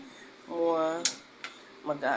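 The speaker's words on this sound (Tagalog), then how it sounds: "Kukuha na ako ng pinggan ni Angel." Plates taken from a stack of dishes in a home kitchen: a few sharp ceramic clinks and clatters close by, with a voice speaking at moments.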